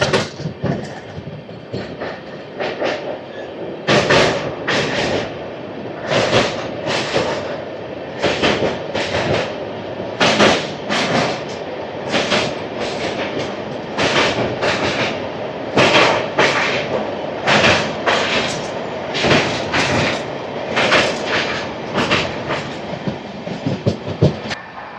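An Amrit Bharat Express running on its inaugural Thiruvananthapuram North to Charlapalli journey, with rhythmic clickety-clack of wheels over rail joints repeating in regular bursts against a steady rolling rumble, heard from on board.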